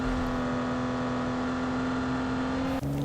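A car driven in the mobile battle royale game PUBG Mobile, its engine holding a steady loud drone at constant pitch, then abruptly shifting lower near the end, with no voice over it.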